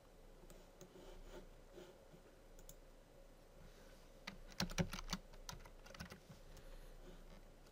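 Keys clatter on a computer keyboard while equipment entries are typed into FastDUCT duct estimating software, soft scattered taps at first, then a quicker, louder burst of clicks near the end, with no talking.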